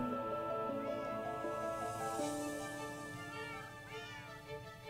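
Several Minecraft cats meow over and over in overlapping, drawn-out cries, a busy chorus close by that keeps going without a break.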